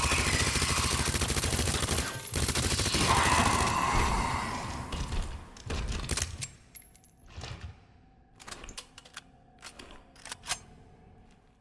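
MQ 11 submachine gun fire from Resident Evil 2: a dense sustained burst of rapid automatic shots gives way to shorter separated bursts and single cracks with quiet gaps between them.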